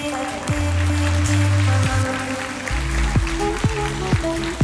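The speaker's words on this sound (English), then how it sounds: "so big round of applause with all these recipients" A hall audience gives a big round of applause for award recipients at a university ceremony, a loud, sustained crowd clapping mixed with tonal music or sound-system tones and occasional sharp thumps.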